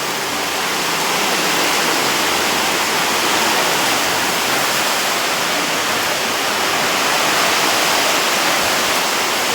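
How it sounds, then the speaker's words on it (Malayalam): A loud, unbroken roar of heavy downpour on a stormy morning in rural Kerala, a steady broadband wash that holds constant throughout with nothing else audible. "മഴയുടെ സൗണ്ട്"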